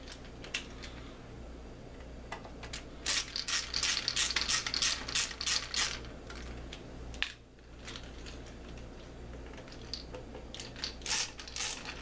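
Screws being unscrewed from a CMC7 device, bursts of close, quiet ratcheting clicks from a driver repeating in several short runs with pauses between them.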